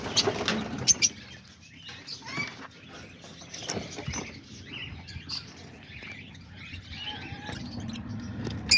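Peach-faced lovebirds in an aviary: bursts of wing flapping mixed with high chirps and tweets, fairly close, with sporadic flutters over a busy bird background.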